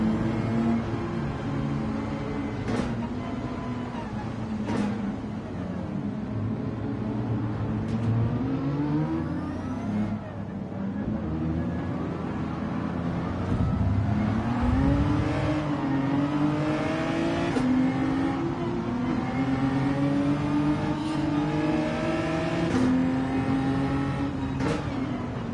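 Race car engines in a racing video game on a wet track, revving and rising through gears with repeated shifts, loud and continuous with other cars whirring past, no talk.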